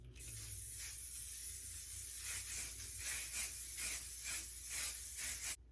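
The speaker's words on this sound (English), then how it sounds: "I'm gonna go ahead and spray my face with setting spray" Mattifying waterproof One Size On Till Dawn setting spray misted onto a face in a rapid series of short pumped hisses, close and fairly soft, with no voice over it.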